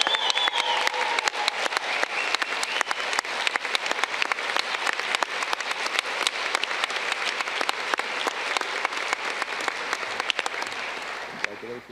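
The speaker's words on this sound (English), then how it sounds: "I would like to invite everyone here to be the first in offering an enthusiastic and heartfelt applause to our department's class of 2023" Loud, sustained applause from a commencement audience for the graduating class of a Romance Languages and Literatures department, dense clapping that holds steady for about twelve seconds with a few voices mixed in.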